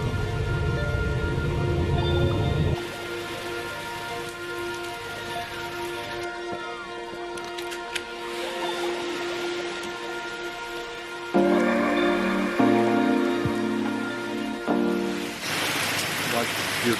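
Heavy rain beats down outside a train riding through Switzerland between Interlaken and Gstaad, a steady wash of noise under onboard rumble, with the texture shifting partway through and a louder spell near the end.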